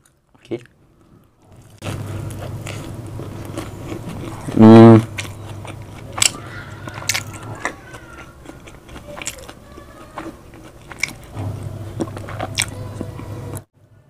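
Biting and chewing a KFC Spicy BBQ Zinger burger with mayonnaise, close-miked for a Malay ASMR mukbang. Soft squishy chewing runs throughout, with one louder crunchy bite partway through and brief quiet pauses.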